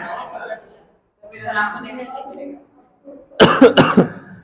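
A teacher's few sharp, harsh coughs burst out near the end of a maths class, loud and close, following a stretch of quiet talking.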